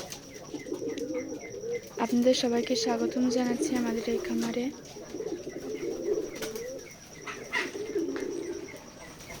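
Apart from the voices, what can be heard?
pigeons cooing at a pigeon farm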